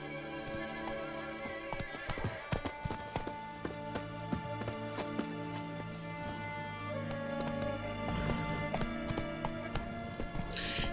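Horse hooves clip-clopping in The Witcher 3: Wild Hunt, a steady rhythmic series of hoofbeats over about eleven seconds amid game ambience, with brief louder accents and faint background sound.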